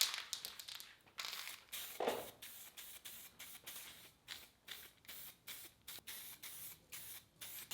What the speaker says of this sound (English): I'm going to spray this guy because it'll take a day to cure